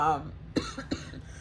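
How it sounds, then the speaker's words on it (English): After a moment of speech, someone coughs twice in quick succession, close and fairly harsh, then quiet room noise follows. "My gosh, this cough."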